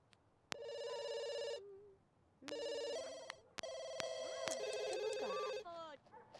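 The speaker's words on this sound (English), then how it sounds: "Stupid phone, stop ringing." A telephone rings in The Sims 2, sounding in three long bursts of bright, repeating electronic tones, with short gaps between and a few brief game sound effects layered over the later bursts.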